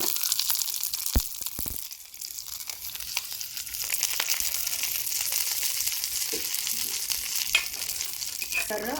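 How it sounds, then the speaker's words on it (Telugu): Curry leaves and tempering spices sizzle in hot oil for Andhra-style curd vada, a steady loud crackling hiss running throughout with a few sharper pops and no talking. "ఇప్పుడు మనం కరివేపాకు అవన్నీ వేసి తాలింపు పెట్టాలి"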